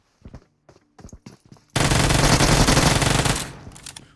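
Gunfire in a video game: several sharp single shots, then a sustained burst of rapid automatic fire that runs for about two seconds before cutting off, followed by a few more scattered shots.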